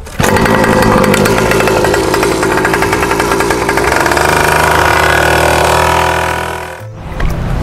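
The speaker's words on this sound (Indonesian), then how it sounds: "Sekalian panasin motor ini." Trail motorcycle engine idling loud and close as it warms up, a steady rough mechanical drone with fast rapid pulsing, dropping off sharply near the end before a brief restart burst.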